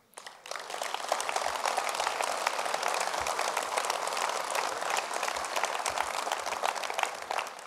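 Sustained applause from a large audience at a mayor's New Year greetings ceremony in Voiron in 2016, a dense, steady wash of many hands clapping that starts abruptly and holds for several seconds without talk.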